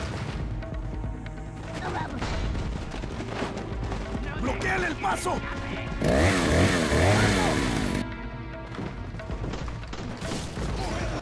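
A chainsaw-wielding enemy's saw snarls and revs in the video game Resident Evil 4, buried in a dense, loud mix of combat noise, crashes and music, swelling louder for a couple of seconds midway.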